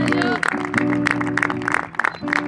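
Church congregation clapping in short, uneven bursts, close and fairly loud over a sustained tonal backdrop of music.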